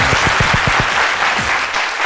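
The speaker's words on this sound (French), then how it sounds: "Merci d'applaudir très fort Jean-Michel Honat." Applause from a studio audience at a French television show breaks out for an introduced guest, a dense steady wash of many hands clapping, loud and continuous for two seconds.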